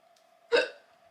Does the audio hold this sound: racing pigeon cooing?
no